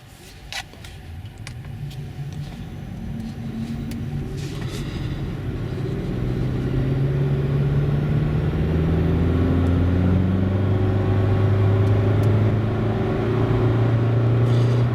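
A Honda Jazz 1.5 e:HEV hybrid car accelerates to 90 km/h on cruise-control resume while climbing a hill, heard from inside as a smooth engine hum that rises in pitch and grows louder over road and tire noise.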